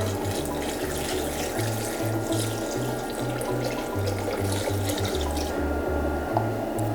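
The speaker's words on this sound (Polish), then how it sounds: "To teraz wlewam litr bulionu." A litre of broth poured steadily into a Cobbo 7 kitchen robot while making Mexican soup, giving a continuous close liquid rush with a low, pulsing hum from the machine underneath, no voices.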